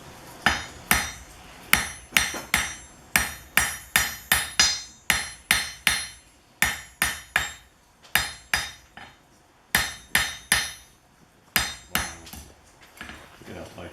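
Blacksmith hammering a hot metal joint at a demonstration, around thirty sharp ringing blows in quick uneven groups separated by brief pauses, close and loud.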